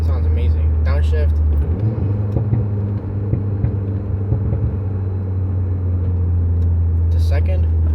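Loud, steady engine rumble from inside a Volkswagen Mk8 GTI, downshifting to second gear, with a brief shift in pitch partway through and light clicks at the start and end.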